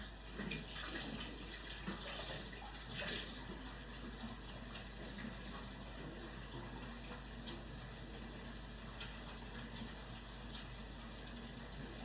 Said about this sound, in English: I'm going to wash my hands real good.